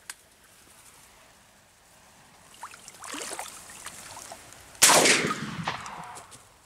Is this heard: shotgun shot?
yes